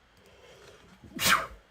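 A single loud, close human sneeze bursts out after a quiet stretch of faint background murmur, then trails off.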